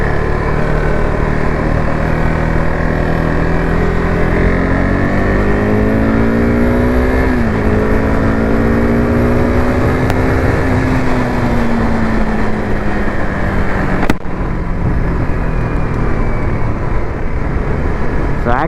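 A KTM RC 390 motorcycle engine drones loud and close as its tyres are warmed, the pitch climbing gradually then settling, with wind-like roar throughout.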